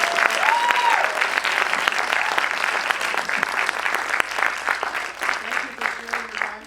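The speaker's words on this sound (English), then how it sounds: "Guys, can we give a big round of applause?" An audience at an a cappella group performance claps in a loud round of applause that gradually thins into scattered claps, with a voice or two and a whoop briefly rising over it.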